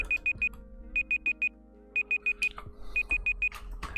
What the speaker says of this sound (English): Sorry, that was the timer.